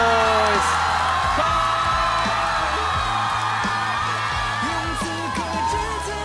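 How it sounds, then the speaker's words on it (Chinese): An audience claps, whoops and cheers at the launch event for the Roewe X5 Plus car, a loud, steady crowd roar with music in the background. "掌声鼓励一下。"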